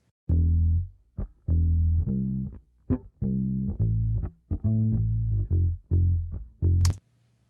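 A heavily compressed musical phrase pushed at a higher ratio with the output pulled back: a run of short, punchy sustained notes of even loudness, each cut off abruptly, ending in a brief bright burst.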